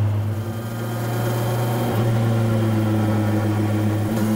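A 2025 Kawasaki Versys 1100 motorcycle engine pulls steadily under throttle, a loud continuous mid-pitched drone whose pitch rises slightly as it accelerates, with no talk over it.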